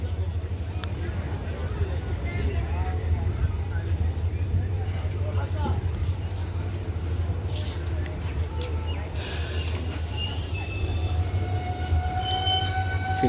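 The Dullabcherra Express runs near Barigram Junction with a steady low rumble of wheels and carriages. Faint squeals rise midway, and a voice is heard over the train noise.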